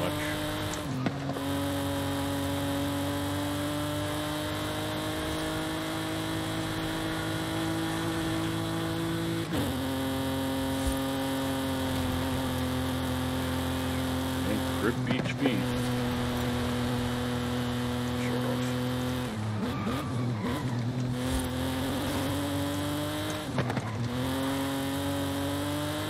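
In Forza Horizon 5, a tuned A800 race car runs a flying lap with a loud, sustained engine whine held high through long stretches. Sharp downshifts and blips break it at intervals, and tires squeal faintly now and then.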